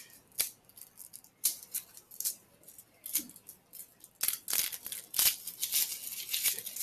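Garlic cloves unwrapped by hand in a home kitchen, a series of sharp crinkling and snipping papery crackles, quiet and close, growing denser and more frequent toward the end.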